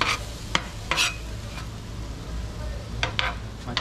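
Shrimp frying in a small pan in a backyard hibachi-style cook, a steady close sizzle punctuated by several sharp spatula scrapes and taps against the metal, with a low hum underneath.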